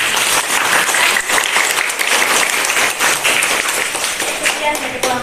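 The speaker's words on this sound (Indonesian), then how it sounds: "Yuk kita beri aplaus." A classroom group breaks into lively applause, dense overlapping clapping from many hands filling the space continuously, with voices mixed in.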